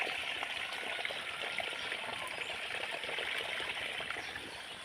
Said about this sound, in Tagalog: may sariling tubig galing sa ilog, dire-diretso ang agos